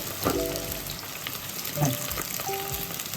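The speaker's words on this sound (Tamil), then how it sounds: "வெங்காயம் போட்டுக்கிறேங்க." Chopped onions frying in a pan for chicken biryani, a steady close sizzle with a few brief scraping stirs and short tonal clinks, no talking.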